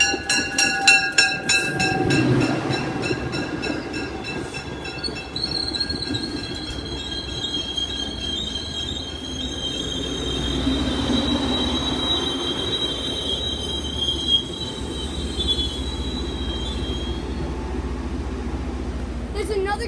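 An MBTA train passes close by at a station, with loud, sustained wheel squeal and rumbling rail noise while people talk nearby.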